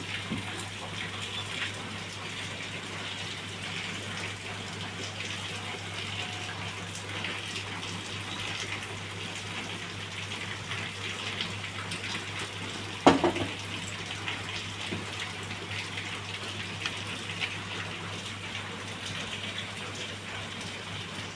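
Heavy rain pours outside during a storm, heard from indoors as a steady, even hiss with a low hum beneath it and one brief clatter partway through.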